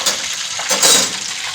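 Fish masala pieces sizzling and spitting in hot oil in a pan, a steady close fry with a brief louder hiss midway and faint stirring.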